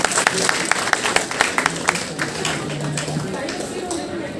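Scattered claps from an audience at a college food carving and open mic event, sharp and sparse during the first two seconds, then fading into a murmur of voices and chatter.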